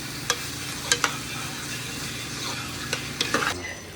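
Garlic, onion and tomato sauté in a pan for a spicy kovakkai kara kuzhambu, a steady sizzle broken by sharp clicks and scrapes of a utensil against the pan, close and fairly quiet.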